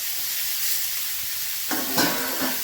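Green chilies go into a hot pan for a spinach curry and fry with a steady hiss, which jumps to a louder, crackling sizzle partway through and stays close and busy to the end.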